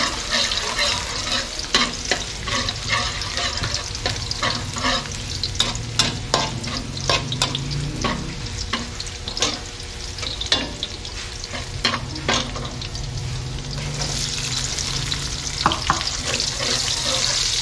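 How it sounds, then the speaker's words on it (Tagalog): Garlic and onion sauté in a pan at a market-side cooking spot, a steady close sizzle broken by repeated scraping and stirring clatters of a utensil against the pan, continuing without speech. "Gigisa tayo ng bawang sibuyas."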